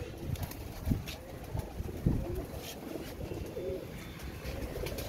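Pigeons coo softly in a loft with low, repeated calls, while faint wing flaps and background noise run throughout.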